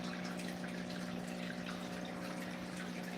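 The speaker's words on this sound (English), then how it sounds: "That right there pumps 300 gallons of water for this pond." A 300-gallon pump circulating water through a turtle pond gives a steady, even hum with a constant watery rush and faint trickling, no talking over it.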